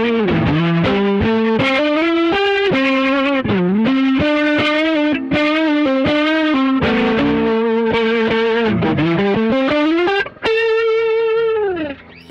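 An electric guitar on the neck pickup plays a melodic line through a Keeley Supermod pedal with its rotary effect and drive on, giving a swirling, wobbling, overdriven tone that is loud and continuous.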